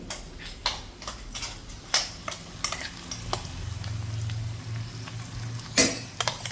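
Vegetables and green chillies cooking in a pan, with a low frying hiss under repeated metallic clinks and scrapes of a spoon stirring against the pan, close up and moderately loud, no talking.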